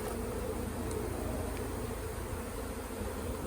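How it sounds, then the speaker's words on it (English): A large swarm of honey bees buzzing in a dense, constant drone, close and steady throughout, with no voices over it. "It's just a fairly huge swarm."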